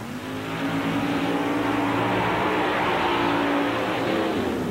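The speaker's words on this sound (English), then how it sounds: "Gambler is the name of this vehicle, with a 454 big block Chevrolet providing the horsepower" An S10 Blazer named Gambler, powered by a 454 big block Chevrolet, roars at a mud race, its engine a loud sustained drone with rising pitch, and a commentator talks faintly underneath.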